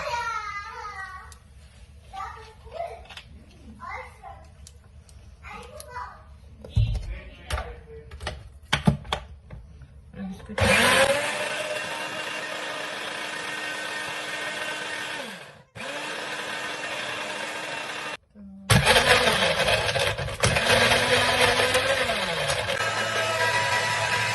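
A blender grinds a mint margarita with ice and a splash of 7 Up, its loud steady whir starting in bursts, then running continuously with short pauses, preceded by brief clatter and handling noises.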